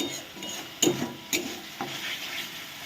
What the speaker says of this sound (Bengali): এই মশলাটাকে খুব সুন্দর করে কষিয়ে নিচ্ছি।